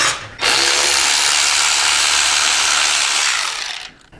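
A power tool spins out banjo bolts from a car's throttle body, a loud steady whirring drone that runs for about three seconds, then slows and stops.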